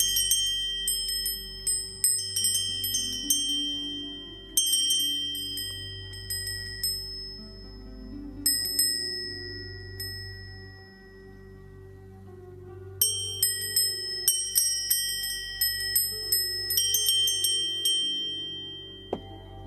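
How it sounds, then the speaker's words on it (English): A small bell is rung repeatedly in a series of bright metallic dings that ring out and decay, coming in clusters with short pauses between them. It sounds close and clear, with no speech over it. "Let me ring a bell too on this end."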